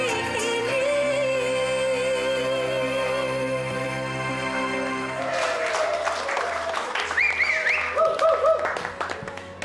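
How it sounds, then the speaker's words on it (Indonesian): Audience applause after a stage performance, rising as a burst of clapping once the music stops partway through, with some voices and tonal sounds mixed in. "Beri tepuk tangan sekali lagi"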